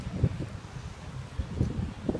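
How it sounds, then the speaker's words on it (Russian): Steady fresh wind buffets the microphone with low rumbling gusts at a sailing regatta in Mariupol, continuous throughout and with no voices. "Дают довольно-таки свежий ветер."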